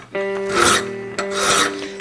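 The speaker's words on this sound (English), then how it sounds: "Got a bunch of file work to do here." A metal file rasps across the squared shoulder of a knife tang in two long, steady strokes, close and loud with a gritty scraping texture.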